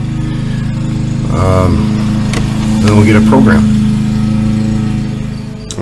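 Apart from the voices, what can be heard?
lawn mower going by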